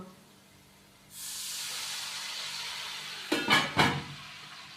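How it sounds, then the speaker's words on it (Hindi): Water poured into a hot cooking pot of fried onions for pulao hisses and sizzles steadily, then a couple of quick knocks follow close by. "अभी हम इसके अंदर थोड़ा सा पानी डाल के ऊपर से इसको कवर करेंगे।"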